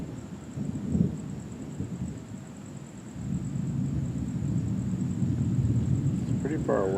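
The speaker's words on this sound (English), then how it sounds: "It's pretty far away because the thunder hits so far after the lightning." Distant thunder from a night thunderstorm, a low, soft rumble that swells and rolls on for several seconds beneath a steady high electronic whine, with a brief faint chirp near the end.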